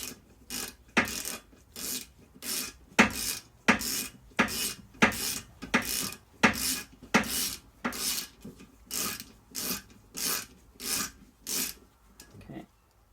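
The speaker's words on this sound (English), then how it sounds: "Just tightening a little bit so that I can use the torque wrench." A wrench working on the bolts of a Honda NSX CV axle during an axle and rear brake rebuild, with about fifteen rhythmic rasping ratchet strokes close up, each a short burst followed by a brief pause.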